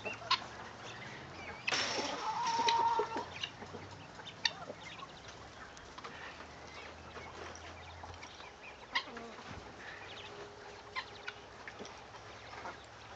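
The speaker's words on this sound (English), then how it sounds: "Are we going to get another white hen out here to replace Pernella?" Hens cluck and squawk in a burst near the start, then quieter scattered clucks and rustling follow over a low background hum.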